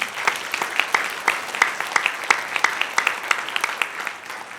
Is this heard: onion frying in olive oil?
no